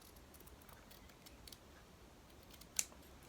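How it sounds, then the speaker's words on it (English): Scissors cut out a paper love heart: quiet, scattered crisp snips close by, with one sharper, louder snip near the end. "It's much easier to manoeuvre the actual love heart around for the cut."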